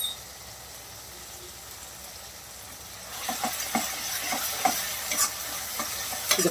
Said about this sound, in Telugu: ఇదిగోండి టమాటాలు వేగుతున్నగా మెత్తగా అయిపోయాక కారం అది వేసుకుంటాం